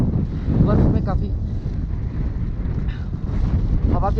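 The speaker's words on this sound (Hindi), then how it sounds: "हवा की आवाज़ आ रही है आपको?" Strong Himalayan wind in Spiti roars and buffets against the microphone throughout as snow begins falling, a constant loud rush with a voice briefly audible underneath.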